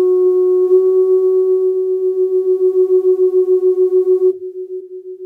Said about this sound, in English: we can add a little bit of echo